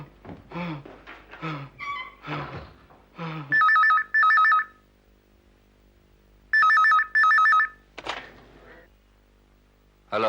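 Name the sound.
telephone ringing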